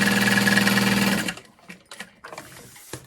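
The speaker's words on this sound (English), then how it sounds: "So what I'm gonna do is sew along the bottom" A sewing machine runs in a steady, loud, close whir while stitching along the bottom of a bag pocket, then stops, followed by a few soft handling clicks and rustles.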